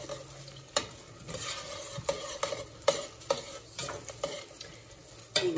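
Ingredients frying in a pan with tomato paste, stirred with a utensil that scrapes and taps against the pan in irregular bursts over a steady sizzle.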